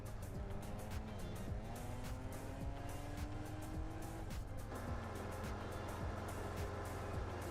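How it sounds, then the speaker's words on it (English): Car engine in Farming Simulator 25 revving through rising and falling gear sweeps over a steady low drone, with intermittent tire noise, loud and continuous throughout. "Love the car sounds."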